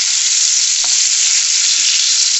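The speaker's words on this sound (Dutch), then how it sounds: "En ik ben lekker even aan het bakken. Lekker tataatjes." Potatoes fry in a pan with a loud, steady sizzle and a couple of faint stirring scrapes close by. No one speaks.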